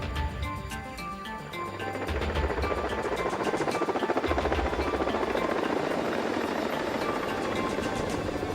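A helicopter in a video game flies past, its rotor thump and engine roar swelling from a moderate level into a loud, steady, pulsing wash that holds to the end.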